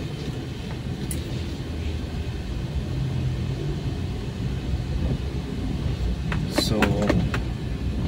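A Suzuki DA64W minivan on the move, heard from inside as a steady low road rumble and engine drone, with a brief word spoken and a few faint clicks and rattles near the end.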